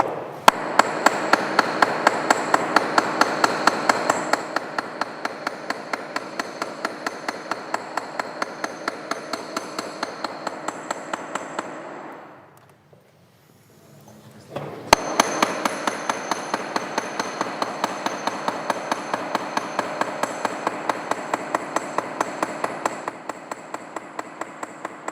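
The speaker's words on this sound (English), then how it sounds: "I want to hammer a little bit more" Sharp hammer blows land close and even in a steady rhythm. They pause for a couple of seconds midway, then resume at the same pace.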